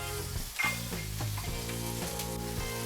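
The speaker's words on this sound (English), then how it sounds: "we'll add a little bit of butter and these fresh herbs into the butter" Lamb steak fries in butter with fresh herbs, a close, steady sizzle under a low background hum with faint intermittent crackles and a soft clatter; no one speaks.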